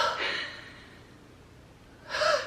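A person imitates loud, close-up heavy breathing like someone almost snoring in sleep, two raspy breathy bursts separated by a quiet pause.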